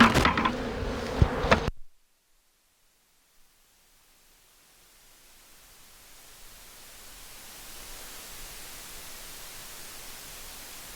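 Honey bees from an exposed hive being removed in Donna, Texas, produce a soft hissing buzz that swells steadily after a short burst of noise and a near-silent pause, growing into a dense, continuous drone.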